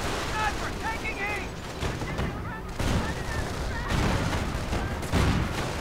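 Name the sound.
sniper rifle shots from a video game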